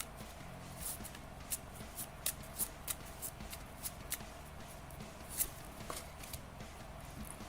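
Tarot cards are shuffled and picked by hand in a quiet room, giving soft, irregular riffling and snapping flicks close up.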